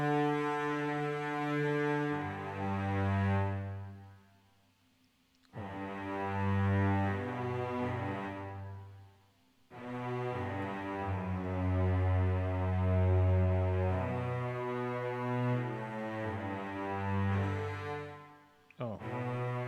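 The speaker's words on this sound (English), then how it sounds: "The cello part should sound like this." Cello line of a theme from Final Fantasy VII, a slow sustained bowed melody with long legato notes in phrases separated by brief pauses, played alone without talk.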